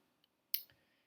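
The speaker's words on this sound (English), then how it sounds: "I'm hitting the left directional arrow" A single sharp click of the left arrow key on a computer keyboard, with a faint tick just before it and a soft thump right after, set against near silence.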